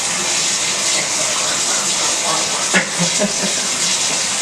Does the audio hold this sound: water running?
yes